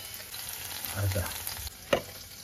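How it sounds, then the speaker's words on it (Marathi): Red masala fries in a pan with a steady sizzle, joined by soft scraping from stirring and one sharper clack near the end. "आता ना हा मसाला मस्त फ्राय होऊ द्यायचा"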